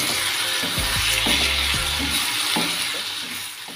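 A stalk vegetable curry with black pepper and garam masala stirred in a pan, with a soft continuous sizzle and low scraping strokes of the spoon, fading slightly toward the end.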